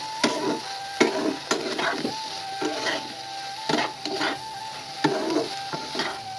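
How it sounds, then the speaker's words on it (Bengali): Shapla water lily stems, salted beforehand, cooking down in a pan in a village kitchen, giving a steady soft sizzle with repeated stirring scrapes and clatters, close and moderately loud, no talking. "শালুক রান্না হয়ে গিয়েছে বন্ধুরা"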